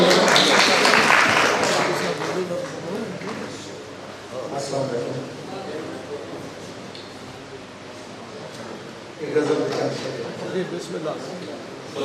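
Applause from an audience at a poetry gathering, broad and dense at the start, then fading under ongoing talk and crowd murmur, with another burst of clapping near the end.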